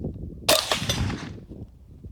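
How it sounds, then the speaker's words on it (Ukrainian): A single suppressed .22 rifle shot using Stinger ammunition at about 500 m/s through an ALS steel suppressor, a dull snapping crack that quickly fades into quiet background noise. "Стрільба патроном Stinger 500 метрів на секунду. Глушник АЛС."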